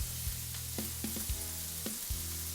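Scallops sauté in a pan with a soft, steady sizzle, punctuated by a few brief clinks and scrapes of a utensil against the pan; quiet and close, with no talking.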